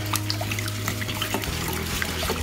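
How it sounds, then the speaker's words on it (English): Water sloshes and swirls inside glassware while a clean abrasive scourer scrubs around the interior without soap, a steady close wet rubbing and trickling throughout with no talking. "Little bit of water, but not too much, just enough so that it can move around."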